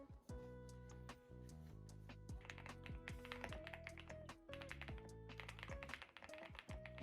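Light tapping on a computer keyboard during a writing session, quick irregular key clicks scattered over soft background music with no talking.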